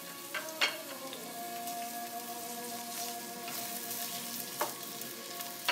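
Garlic frying in a pot over a high flame, a steady crackling sizzle with a few sharp pops and stir clicks, close and continuous with no talk.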